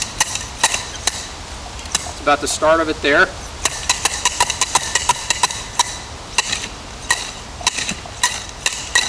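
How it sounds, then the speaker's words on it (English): Repeated sharp metallic clanks as a probe is hammered into the soil of a septic system down to dry stone aggregate, irregular strikes throughout, with a brief spoken phrase partway through. "we're going to take this probe and try to hammer down into the soil"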